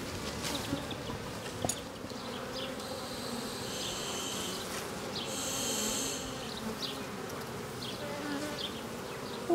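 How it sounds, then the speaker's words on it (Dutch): Honeybees buzz steadily at a hive in a continuous, close, dense drone, with a few individual bees flying past; no talking is heard. "de mensen vinden de bijen eng omdat ze kunnen steken"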